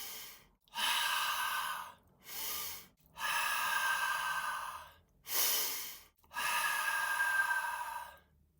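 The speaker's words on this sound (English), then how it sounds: "exhale forcefully as if you're exhaling fire" Four forceful Dragon's Breath exhales pushed from deep in the throat, each a loud, breathy rasp lasting about a second or more, separated by short quiet gaps.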